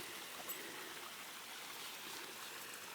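A waterfall flows steadily at a distance, a soft, continuous hiss of rushing water that stays even in level throughout, with no voices over it.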